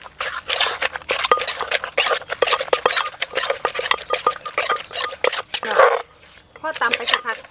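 Som tam papaya salad with fresh shrimp pounded in a mortar, a quick steady series of wooden thuds and squishy knocks, close and clear, with someone talking over the pounding.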